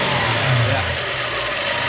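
A Toyota Soarer (Lexus SC400) engine with an injector misfire revs up hard, a loud, close, steady roar that peaks early and then holds at a high rev.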